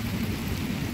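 Heavy rain pours down in a steady, dense hiss during a thunderstorm in Chisinau, continuous and close for about a second, with no voices.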